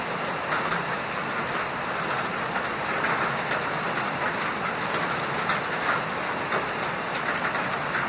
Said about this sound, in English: Made it just before the rain.